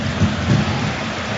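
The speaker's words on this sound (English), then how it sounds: "Rain comes pouring down in the east end of Glasgow as Schmeichel comes to the edge of the box," Heavy rain pours down on a football stadium in the east end of Glasgow during a Celtic match. It makes a dense, steady hiss with low rumbling swells underneath.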